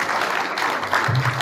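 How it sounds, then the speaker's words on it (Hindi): Applause from an audience in a seminar hall at a government postgraduate college, heard as a steady wash of clapping that goes on for the whole short stretch with no pauses. "एक बार जोरदार तालियां हो जाएं"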